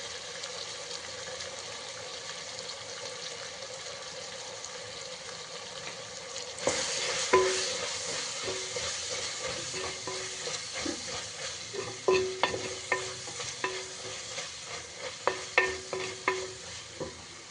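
Chicken sukka masala being stirred in a frying pan, a low steady sizzle at first, then a louder run of scraping spoon strokes and clinks against the pan from midway on, with no voices.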